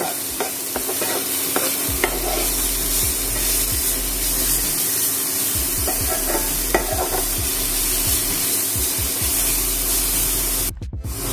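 Gourd being lightly fried in a pan for a sweet milk dessert, a steady sizzle running throughout with repeated stirring scrapes, close and loud, ending with a brief clatter.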